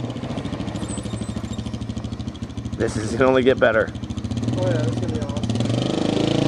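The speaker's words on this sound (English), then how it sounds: "That's the rev limiter, fellas. Rev limiter is preventing it from revving." Quad bike engine held at the rev limiter during a launch on a farm, a steady buzzing drone with rapid stuttering pulses running throughout, loud and close, with people talking and shouting over it.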